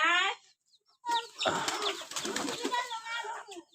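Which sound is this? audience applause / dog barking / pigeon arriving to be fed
pigeon arriving to be fed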